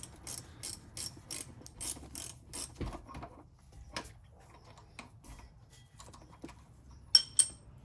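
A hand ratchet clicks in quick bursts while loosening brake bolts on an Infiniti Q50 during an Akebono big brake kit install, with sharp metallic ticks and a few louder clanks near the end.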